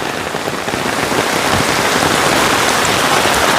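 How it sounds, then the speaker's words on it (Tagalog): Heavy first-of-season downpour pounding a roof and concrete at a building site, a dense, loud, continuous hiss with no pauses and no voices. "grabe yung ulan mga kabayan"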